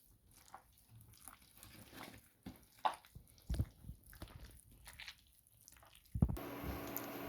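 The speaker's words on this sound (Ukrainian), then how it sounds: "І тепер уже руками так я розмішую." Zucchini pancake batter is mixed by hand in a bowl, giving soft, wet squishing and squelching sounds in irregular bursts, quiet and close, with a louder handling noise near the end.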